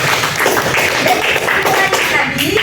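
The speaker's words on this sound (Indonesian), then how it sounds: "Silakan beri tepuk tangannya." Classroom applause for a student group finishing a microteaching presentation, a dense patter of many hands clapping at close range that carries steadily through the whole stretch, with some faint voices mixed in underneath.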